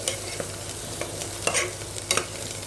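Soaked black peas are stirred into masala frying in a pan, giving close spoon scrapes over a soft, steady sizzle with a few sharper stirring bursts and no talking.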